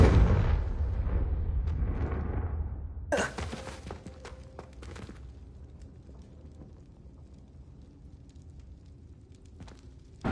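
Confringo blasting spell cast in Hogwarts Legacy on PS5: a deep, booming blast rolls out and fades, followed by a sharp crackling burst and a softer impact later, with no speech.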